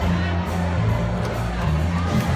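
A large crowd cheers and shouts at a homecoming for Honor Flight veterans returning from a trip to DC, a steady, loud roar of voices that never lets up.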